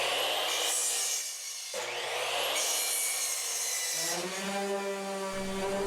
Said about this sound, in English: So I'm going to go to the miter saw and cut these now.